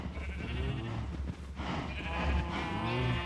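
Crowd of many cows in the Minecraft video game, with overlapping bleat-like lowing calls repeating continuously and fairly loud throughout, no talk over them.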